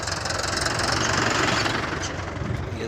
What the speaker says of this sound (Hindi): ये देखो ग्रामवासी भी भैया अपना ट्रैक्टर लेके निकल लिए काम